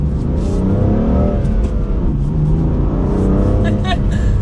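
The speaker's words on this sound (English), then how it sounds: "You can hear that exhaust just a little bit as, of course, as you give it some gas." A 2020 BMW M4 Heritage Edition engine revs and accelerates up close, its exhaust note rising and falling steadily under a continuous throaty roar.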